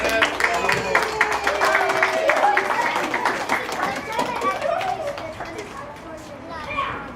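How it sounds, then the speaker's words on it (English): A crowd of children at a reptile show claps for a boy who held a lizard, scattered, sustained clapping mixed with excited kid chatter and voices. "Give Zachary a big round of applause."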